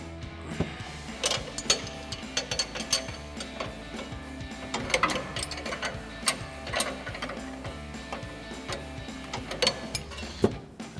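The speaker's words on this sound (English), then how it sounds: "So we'll get our wrenches on here. Go ahead, get this thing loose." Wrenches turn a nut loose on the front upper control arm of a 2007-2021 Toyota Tundra. Steady mechanical clicking and grinding runs throughout, with sharp metallic ticks and clanks near the tool, loud and close, and no talking.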